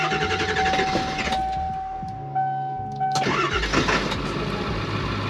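A school bus engine, left sitting for months in the Colorado cold, cranks and then starts, settling into a loud, rough idle up close, with no talking over it.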